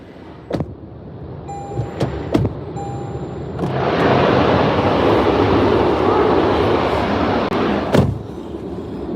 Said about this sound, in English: That plane is loud, holy crap.